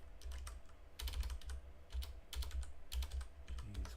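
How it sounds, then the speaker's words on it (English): Quick bursts of typing on a computer keyboard, close and fairly quiet, with clustered key clicks separated by short pauses. "gonna get the bad typing out of the way."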